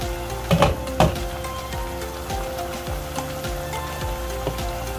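Jaffna-style mutton curry with coconut milk boils in a pot, giving a close, continuous bubbling and spattering like rain on a surface, with a few louder pops early on.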